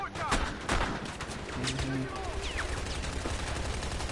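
Video game combat at a helicopter, with grenade launcher blasts and rapid gunfire: sharp bursts of shots and booming impacts, dense and close, with a voice speaking briefly over the battle.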